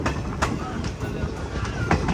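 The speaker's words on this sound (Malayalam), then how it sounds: "മുനീറാബാദ് റെയിൽവേ സ്റ്റേഷനിലേക്ക് ഇതാ ട്രെയിൻ എത്തിക്കൊണ്ടിരിക്കുകയാണ്" A train pulls into Munirabad railway station on the Hampi to Hubballi line, giving a steady, loud rolling rumble with faint wheel clatter throughout.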